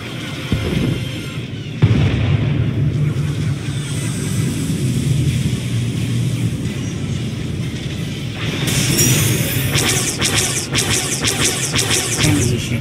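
Blockade ships open fire during a space battle in Star Wars: The Old Republic: a continuous roar of booming explosions and weapon blasts, with sharper crackling bursts after a sudden loud hit, and no speech.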